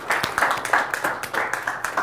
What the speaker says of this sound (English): A round of applause for our volunteers here.